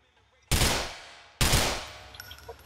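Two loud gunshot bursts in GTA IV, each a sharp broadband crack with a decaying echo, about a second apart, followed by faint scattered game noise.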